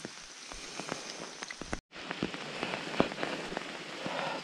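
Steady rain falls through a forest after a night-long downpour, a dense patter with scattered louder drops hitting close by and one brief dropout in the middle.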